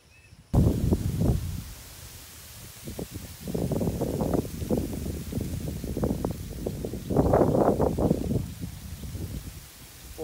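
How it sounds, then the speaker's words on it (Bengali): Strong countryside wind buffets the microphone in loud, irregular gusts and rumbling bursts that rise and fall for several seconds, with no voices. "অনেক বাতাস, সকালে দুপুরে সব সময় গ্রামে বাতাস"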